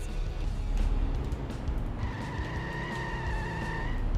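A car skids with rising tire squeal in The Simpsons Hit and Run on PlayStation 2, engine droning steadily beneath a sustained screech.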